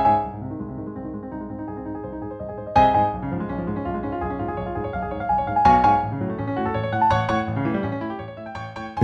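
MIDI-generated orchestral score: sustained layered instrumental chords that swell with several strong accented hits, rising in density and loudness as it goes, with no talking.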